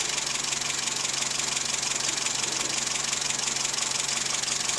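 A steady engine idles close by with a faint knocking rattle during ignition timing adjustment, its even drone holding at one level throughout.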